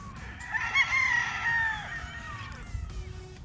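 Golden Boy brood stag rooster crowing once, a single loud, drawn-out cock-a-doodle-doo close by, with faint clucking and background noise afterward.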